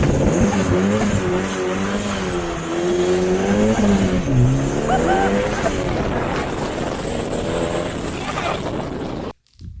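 A dangerous project car, an Exocet build, is driven on the street, its engine roaring and rising in pitch through the gears for several seconds, loud and close, before cutting out abruptly at the end.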